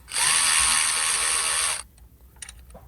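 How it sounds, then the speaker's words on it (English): A power driver with a number 7 socket whirs for about a second and a half while loosening hose clamps on the thermostat hose of a 2016 Buick Encore 1.4T, followed by faint clicks and handling noises. "we're gonna remove this hose using a number 7 socket to release the hose clamps."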